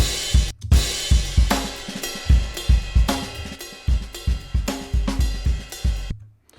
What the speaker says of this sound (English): I have a drum beat here, which is just an Apple loop